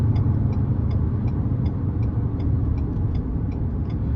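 A 2023 Ford Bronco Sport Badlands 2.0 turbo EcoBoost engine revs higher in sport mode, a steady, loud in-cabin drone with road rumble and a faint regular ticking throughout.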